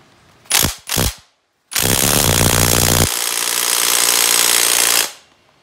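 A ratchet works an eight millimeter Allen head bolt during the teardown of a Yamaha YFZ450 ATV. Two short mechanical bursts come first, then a loud, sustained ratcheting rattle runs for about three seconds before stopping, close and with no talking.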